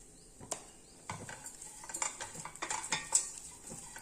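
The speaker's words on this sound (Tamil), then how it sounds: "நல்லா கிளறி விட்டுருங்க." A spoon stirs a coconut rice mixture in a metal pan, making quiet, uneven scrapes and clinks that grow busier toward the end, close by, with no voices.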